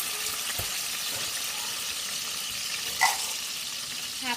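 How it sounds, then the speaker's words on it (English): Peppers frying in hot oil, giving a steady, close sizzle throughout with a brief stir or clink partway, no talk. "already have the oil heating up"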